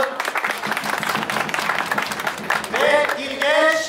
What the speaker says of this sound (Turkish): yarışmacılarımız Rahmi Yiğit, alkış alalım.